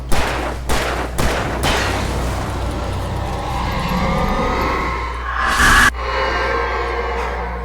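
Pistol gunshots from the video game Alan Wake Remastered, a few sharp reports early on and another loud blast later, over a steady low rumbling ambience with no speech.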